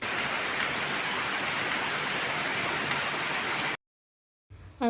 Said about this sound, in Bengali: এদিকে বৃষ্টি যেন থামছেই না চারিদিকে অনেক বাতাস